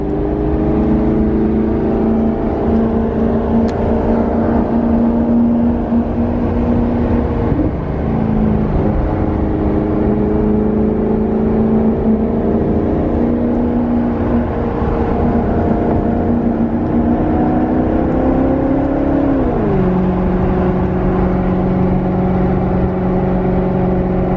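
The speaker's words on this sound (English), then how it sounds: "Thought I'd just let you listen to the Maserati a little bit going through these curves." Maserati engine droning steadily as the car drives through curves, the pitch dipping and rising with gear changes and throttle, heard from inside the car, continuous and loud.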